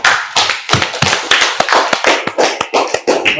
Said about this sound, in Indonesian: Ya, berikan aplaus untuk Ananda